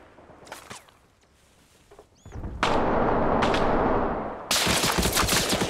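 Grenades exploding near a house in Arma Reforger, quiet footsteps and clicks giving way to a sudden loud blast with a long rumbling roar, followed by a second heavy explosion.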